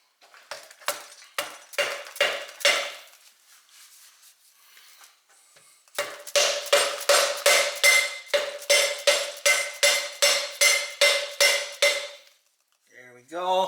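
Sharp metallic clinks from a metal hammer striking the bearing cap on the front wheel of a 1968 Pontiac GTO A-body during a drum brake rebuild, coming in two rapid, evenly spaced runs with a brief pause between them.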